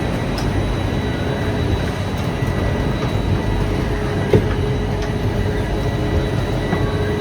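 A long-distance train pulls out of Mumbai Central bound for Jaipur, a continuous loud rumble of wheels and carriages with faint rhythmic clatter and a single sharper knock midway, no voices.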